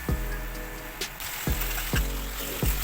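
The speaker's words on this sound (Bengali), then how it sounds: "মশলাটা খুব ভালো করে কষিয়ে নিলাম" Masala paste with onions, turmeric, salt and a little sugar fries in a pan, a soft steady sizzle broken by sharp spatula scrapes that repeat roughly every half second.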